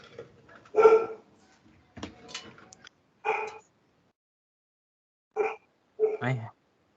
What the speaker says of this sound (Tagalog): Ang ingay ng aso.